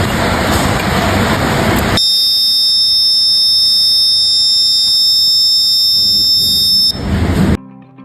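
A shrill electronic infrared door alarm buzzer sounds one continuous high-pitched tone for about five seconds, with rushing noise before and after it.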